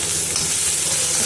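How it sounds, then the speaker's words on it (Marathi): Coriander leaves frying in a pan with the moong dal curry tempering, giving a steady, close, even sizzle with a soft hiss and no talking. "कोथिंबीरचा पण आवाज छान येतोय"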